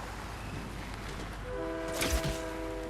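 A train arrives in the video game Fortnite, with a horn sounding as a steady chord partway through over a rumbling background, louder near the end.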